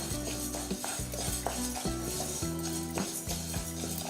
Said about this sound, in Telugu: మన డ్రై అయిపోయిన మూకుల్లో ముందుగా పెసరపప్పు వేయిద్దాం